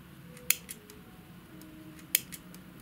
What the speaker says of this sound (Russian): Беру ножницы и срезаю